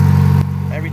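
A car with a newly installed motor idles, running a little rich, with a low steady engine drone that softens briefly partway through.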